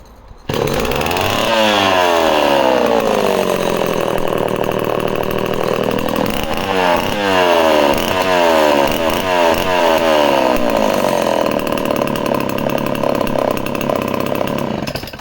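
Canadian-badged Homelite C51 chainsaw engine starting up and running loud and close, revving up and down in repeated rising and falling sweeps before settling into a steady high rasp, with no talk over it.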